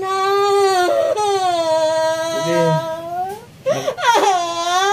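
A woman cries out in pain in loud, drawn-out wails, close by, while another person speaks briefly in between.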